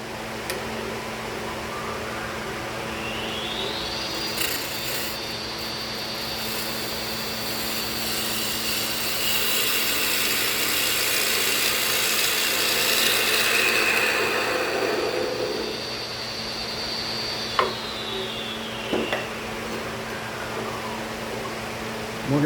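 A power tool whines steadily as it squares off the end of a chechen wood blank for a cane handle, the motor spinning up, cutting with a broad hiss for several seconds, then winding down, followed by a couple of sharp knocks.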